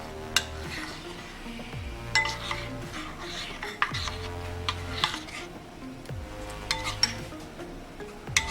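Corn flour akamu (ogi) mixed with water in a bowl, a spoon scraping and clinking against the sides in repeated strokes, close and fairly loud, with quiet room sounds between.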